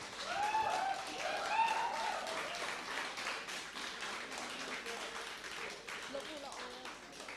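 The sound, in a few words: audience applause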